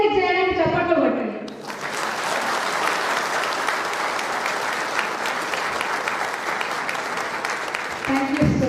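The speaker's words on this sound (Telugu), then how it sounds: "ఎంకరేజ్ చేయడానికి చప్పట్లు కొట్టండి." Audience applause at a nationalist conference hall in Karimnagar, a dense sustained roar of clapping from a large crowd that swells in after a brief spoken line and continues steadily to the end.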